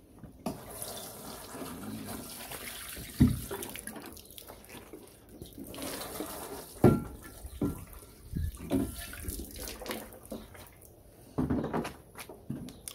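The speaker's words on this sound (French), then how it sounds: "on rince et on regarde ce que ça donne." Water rinses foam rim cleaner off car wheel rims in a steady, moderately quiet hiss of spray, with occasional louder splashes and knocks, and no talking.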